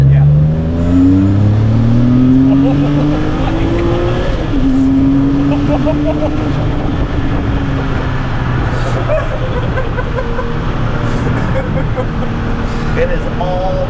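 A Porsche 987 rebuilt with a 4.1L turbo engine accelerates hard, its rising engine note climbing through gears with a shift break midway, loud and close from inside, while people talk and laugh over it.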